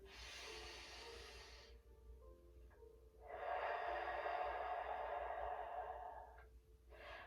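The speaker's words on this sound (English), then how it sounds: "Inhale deeply through the nose and out through the mouth." Deep diaphragmatic breathing during a seated core stretching routine: a long nasal inhale, a pause, then a longer, louder breathy exhale through the mouth, close and alone with no talk.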